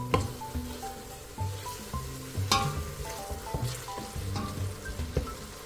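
Small chunks of stockfish frying in oil for Nigerian vegetable soup, a soft, crackling sizzle with scattered pops and faint background tones underneath.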